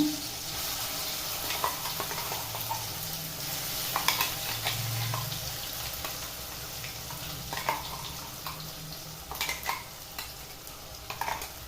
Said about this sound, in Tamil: சிம்மில் வச்சுட்டு நம்ம ரெடி பண்ண வெங்காய பேஸ்ட் சேர்த்துக்கலாம். எண்ணெய் அதிகமாக தெரிக்குது.